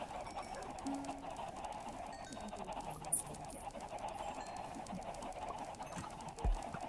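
Chickens cluck in Minecraft, a steady busy flock sound, moderately loud, over a constant background hum with a couple of brief louder knocks.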